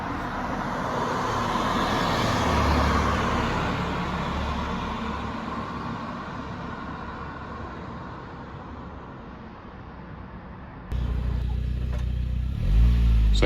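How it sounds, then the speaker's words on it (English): A Saab 900 Turbo pulls away from a former Saab dealership garage in Rossett, its engine droning steadily near then fading slightly amid road traffic noise, before a sudden louder close rumble near the end. "So the Saab can be seen here driving away from the former A&A Brooks Saab garage in Rossett."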